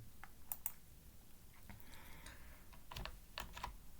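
HTML code being typed on a computer keyboard: quiet, irregular key clicks and taps at close range, with a few sharper strikes and a brief rustle midway, no voices.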